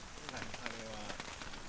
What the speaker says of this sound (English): It's very rainy out here and it's supposed to get heavier